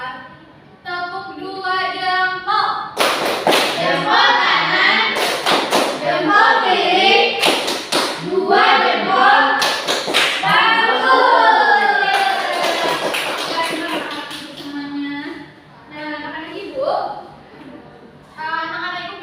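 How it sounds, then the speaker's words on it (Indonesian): A sixth-grade class performs the 'tepuk dua jempol' clapping routine, sharp rhythmic claps and thumps in bursts mixed with children's chanting voices and a teacher speaking. "mari kita melakukan tepuk dua jempol"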